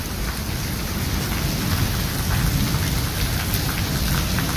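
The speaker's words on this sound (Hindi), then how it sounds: "बहुत तेज़ बारिश हो रही है और अब बाकायदा जो है वो सावन का आगाज़ हो चुका है।" Very heavy monsoon rain pours down in Lahore, a dense, steady roar of water drumming on surfaces with a rumble beneath, loud and unbroken throughout with no voices.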